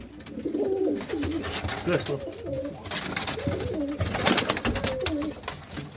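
Tippler pigeons, including a little black and white hen, cooing in repeated low, throaty phrases close by, with someone talking over them.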